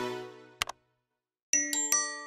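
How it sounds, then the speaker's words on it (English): A cartoon doorbell rings a bright, chiming ding-dong tune in two separate bursts of clear sustained tones, close and loud, with a short silent gap between them. "A doorbell."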